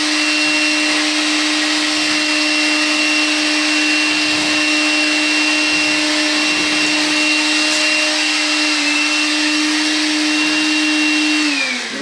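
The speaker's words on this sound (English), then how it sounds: "I think it's got a lot of promise for these little vacuum cleaners." A small Makita vacuum cleaner with a cyclone attachment whines steadily at close range, a constant high motor drone with airy rush that holds for the whole stretch, then winds down at the end.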